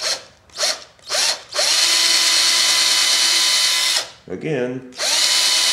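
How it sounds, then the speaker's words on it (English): Power drill boring into a wood carving of a cowboy's horse: several short whirring bursts, then a long steady loud run, a brief pause with a spoken word, and another run, close up. "So I'm going to drill one right here."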